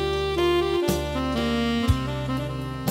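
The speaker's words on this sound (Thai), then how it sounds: "เสียงแซกโซโฟน" Yamaha PSR-550 arranger keyboard on its saxophone voice, a sustained reedy melody line gliding between notes over backing chords, bass and a soft beat, steady and upfront with no talking.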